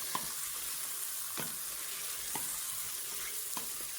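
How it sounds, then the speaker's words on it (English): Steady, loud sizzle of sliced sausage pan frying, with a few faint scrapes of stirring; no voices. "I got my sausage sliced up and I'm pan frying it right now"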